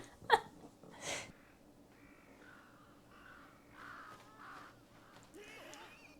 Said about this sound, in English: these crows are just flying towards me